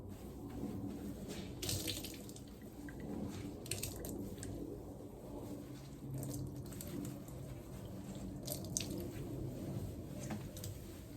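A dyed dress rinsed under a running tap, with steady flowing water, wet squishing and splashing of fabric in a sink, and intermittent louder splashes close by.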